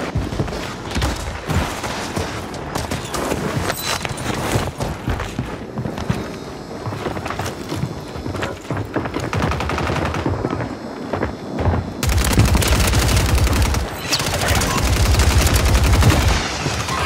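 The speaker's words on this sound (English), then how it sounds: "Taking fire!" Gunfire in the video game Call of Duty Warzone 3: continuous close automatic bursts and single shots over footsteps, growing heavier and louder toward the end.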